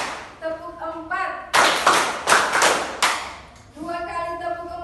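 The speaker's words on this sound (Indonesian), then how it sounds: "Tepuk 1, tepuk 2, tepuk 3," A class claps hands in a counted rhythm during an agribusiness poultry lesson, bursts of several sharp claps in sequence between stretches of a teacher's chanted counting voice.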